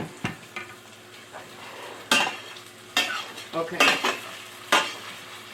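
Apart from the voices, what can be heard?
stirring and mixing potato in a pot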